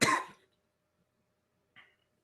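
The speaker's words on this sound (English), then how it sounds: "I have a little bit of a cough." A single harsh cough bursts out loud and close at the start, followed by a brief fainter cough or throat clear about a second and a half later, with silence between.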